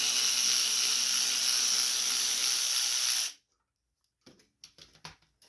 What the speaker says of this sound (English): we're going to take this off here, which is a 1/4 inch socket